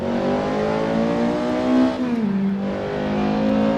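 Race car engine in the Assetto Corsa racing game fitted with a Hurst shifter, holding a steady loud drone that swells, dips around the midpoint, then settles back into a continuous rev with no talking.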